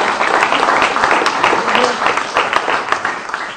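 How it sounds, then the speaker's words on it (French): An audience at a political party event applauds sponsors of a charity action, a dense burst of clapping with some individual claps standing out and faint voices underneath. "Donc vous pouvez les applaudir"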